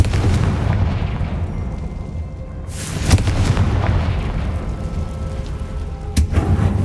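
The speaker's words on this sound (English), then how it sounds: "Confringo!" A Confringo spell blasts off in Hogwarts Legacy, a loud fiery explosion bursting over a rumbling low background. A second sharp blast follows a few seconds later, with crackling debris trailing after each boom.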